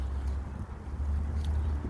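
Wind buffets the microphone outdoors on a fairly windy, cold day, a steady low roaring rumble that holds loud and continuous throughout with no voices.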